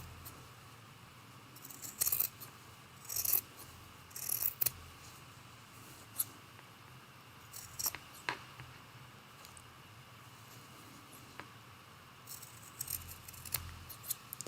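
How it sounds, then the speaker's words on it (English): Scissors snip through quilt backing and batting around a Churn Dash Christmas ornament block, a series of faint, close, irregular crisp cuts over a quiet room. "trim up this extra backing and batting just like that"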